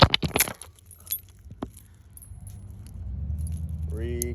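A bunch of car keys jangles loudly in a few sharp metallic bursts close by, then fades into engine-like rumble and a brief voice outside a locked car.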